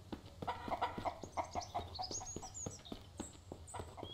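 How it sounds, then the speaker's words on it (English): Chickens cluck repeatedly in the video game Mist Survival, a run of short, fairly faint clucks with some higher chirps later on, heard alone against a low background. "There's another chicken."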